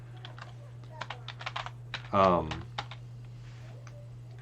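Someone types on a computer keyboard in irregular bursts of light clicking keystrokes, close and fairly quiet over a steady hum, with a short spoken word breaking in midway.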